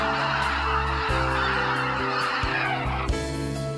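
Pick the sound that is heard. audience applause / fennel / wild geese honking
wild geese honking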